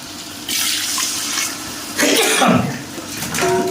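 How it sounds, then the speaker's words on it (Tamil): Water pours in a steady rushing stream onto rice in a vessel for chicken biryani, with a brief throat-clearing sound partway through, close and fairly loud. "இப்போ வந்து 3-4 உலக தண்ணி ஊற்றுறோம்."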